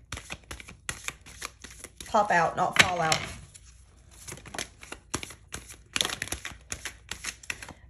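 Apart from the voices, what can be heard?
tarot cards being shuffled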